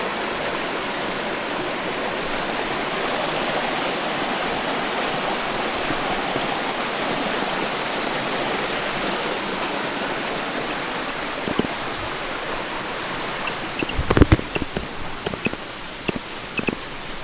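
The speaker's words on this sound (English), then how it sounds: "One of the last pretty little streams to ford." A small mountain stream flows in a steady, full rush of water, close by and alone, with a few footsteps or splashes near the end as it is forded on a hike.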